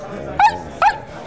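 A person voices two short, close barks in imitation of a dog, each a brief harmonic yelp, spaced about half a second apart over a faint steady background.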